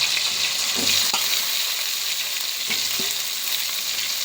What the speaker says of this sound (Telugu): ఇట్లా కొద్దిగా వేసేసుకోవాలి అరటికాయ ముక్కలు